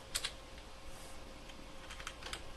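Fingers tap a computer keyboard while a note is typed into a Linux terminal editor, giving soft, close clicks in short, irregular bursts over a quiet background hum.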